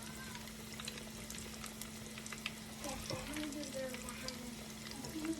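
Chicken cutlets sizzle steadily in a frying pan, a constant crackling hiss with a low hum beneath, while a voice talks faintly over the cooking.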